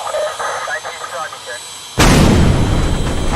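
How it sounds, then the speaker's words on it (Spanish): A spacecraft's right thruster explodes on launch, a sudden loud broadband blast that cuts in after a stretch of radio-style talk and keeps roaring steadily to the end. "El propulsor derecho explotó."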